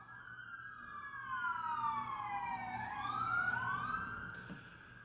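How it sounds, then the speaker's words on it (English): A wailing siren rises and falls steadily, loud and close over low road rumble, with a brief clatter near the end. "Here come the sirens."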